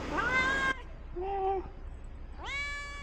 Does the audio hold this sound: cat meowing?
yes